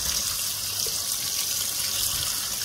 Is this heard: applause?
no